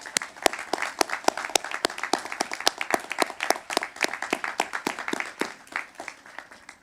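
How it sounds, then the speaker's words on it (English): An audience at a 2021 Stephen Decatur High School graduation ceremony claps steadily, with dense overlapping handclaps and a few sharp louder claps standing out over several seconds. "Let's give them a big round of applause."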